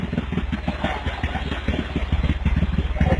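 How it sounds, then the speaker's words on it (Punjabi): A Bajaj Caliber motorcycle engine fitted in a small homemade tractor idles close by with a fast, even, thumping putter that stays steady throughout. "ਬਜਾਜ ਵਾਲਿਆਂ ਦਾ ਕੈਲੀਵਰ ਮੋਟਰਸਾਈਕਲ, ਉਹਦਾ ਇੰਜਣ ਆ"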